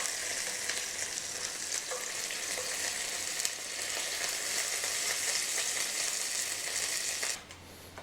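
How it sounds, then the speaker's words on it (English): John Dory fish fries in hot fat, a steady dense sizzle holding loud and even for about seven seconds before dropping away abruptly near the end. "A little bit of a side fry going up on the fat one."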